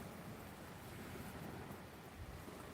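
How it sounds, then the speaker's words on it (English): Steady, dense rain drums on a fishing shelter on a stormy coast, a continuous close hiss and patter with no breaks and no voices. "Here's the rain. You can hear it hitting the shelter now."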